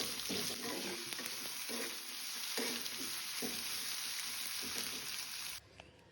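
Green chili and capsicum curry frying in a pan, a steady close sizzle with occasional stirring scrapes throughout, dropping suddenly quieter near the end.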